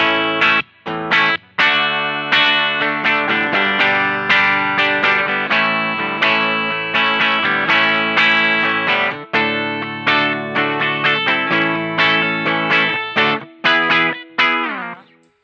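Gibson Les Paul Standard 60s electric guitar on its bridge pickup, played through effects with distortion and chorus: a continuous run of loud, bright, sustained chords and notes with quick rhythmic stops, alone and close-up.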